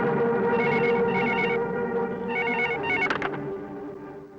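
A telephone rings with repeated electronic bell bursts in a Hindi horror film scene, loud and close, the ringing cycles continuing steadily with no talk over it.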